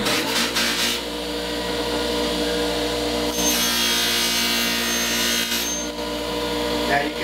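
A powered sharpening wheel charged with green compound works the edge of an adze, giving a steady, loud abrasive whir with constant hum and slight swells throughout.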